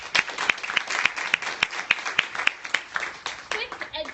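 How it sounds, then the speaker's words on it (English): Applause from an education conference audience, with sharp, evenly spaced claps standing out above a softer crowd clapping, moderately near and sustained for a few seconds as voices mingle underneath. "So round of applause."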